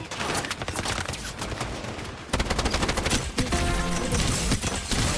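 Rapid gunfire in the shooter game Strinova, with dense bursts of automatic shots that get louder and more intense midway, steady and close throughout.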